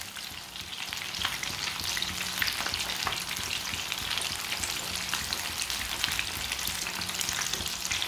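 Chicken leg pieces frying in a pan, turned over to brown, giving a dense, steady crackling sizzle up close that runs unbroken throughout.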